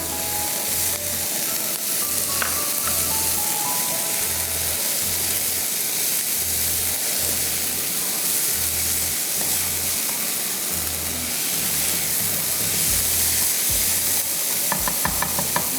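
Chopped capsicum fries in a hot pan with a loud, continuous sizzle and hiss, and soft, regular stirring thumps beneath it.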